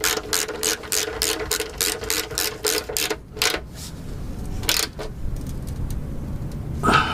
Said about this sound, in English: and just tighten it right back up